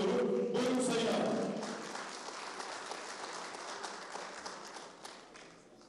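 An audience at a press conference for a Turkish oil-wrestling league bursts into applause that fades out after a couple of seconds, leaving faint room noise and scattered sounds.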